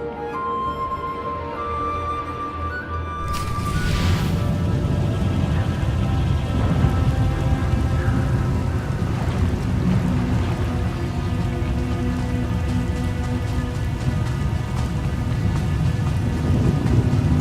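Heavy rainstorm with rolling thunder in the Star Wars: The Old Republic game, Knights of the Eternal Throne; a dense, loud downpour roars steadily after a quieter opening, with deep rumbles swelling beneath it.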